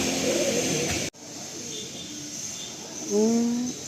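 Pulsar-breed pigeons cooing in a loft, with a soft call early on and a clearer, louder coo near the end over steady background noise.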